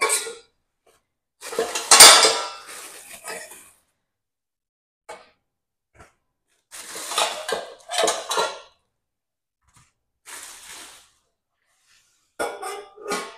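New stainless steel pans, pots and lids are handled and set down, giving bursts of bright metallic clinks and clatters separated by silent gaps, close and fairly loud.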